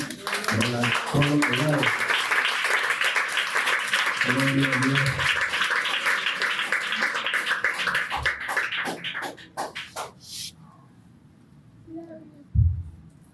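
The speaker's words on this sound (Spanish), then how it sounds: "Bríndele aplauso fuerte al Señor." A church congregation applauds in a dense, steady wash of claps mixed with voices, thinning into a few last isolated claps before quiet.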